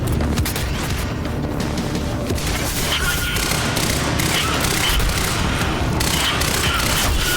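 Sustained gunfire and explosions fill a loud, dense shooter-game battle in Quantum Break, with a small SMG among rapid bursts and booms that run without a break.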